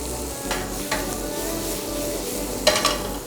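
Sliced garlic and two dried pepperoncino chillies frying with shiitake, shishito peppers and shrimp in a pan for a stir-fried jjamppong pasta, a steady close sizzle broken by a few sharp stirring scrapes.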